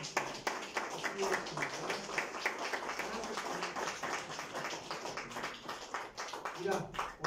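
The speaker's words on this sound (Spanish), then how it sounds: "Denle un aplauso." Church congregation at a Sunday service applauding, many hands clapping in a brisk, steady patter with scattered voices and shouts mixed in, continuing for several seconds.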